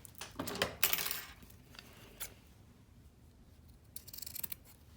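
Scissors snip through the seam allowance of a quilted jacket, trimming away bulk: a few quick, close, crisp cuts early on, then quieter handling and another faint burst near the end.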